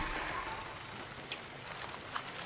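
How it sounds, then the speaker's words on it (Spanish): Rain falling in the Far Cry 6 video game, a faint steady hiss of rainfall with a couple of brief soft splashes. "Más lluvia."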